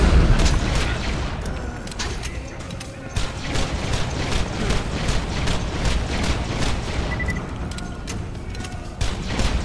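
Explosions and gunfire in the shooter game Borderlands 2, a dense run of repeated booms and blasts at fairly even intervals, with a voice talking intermittently in the mix.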